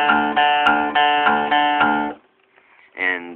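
Two guitar strings, both tuned to D on a guitar in drop-D tuning, strummed together in repeated rhythmic strokes that ring bright and close, then a pause and another strum.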